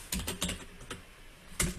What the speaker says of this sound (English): if I go here in my main class and type some code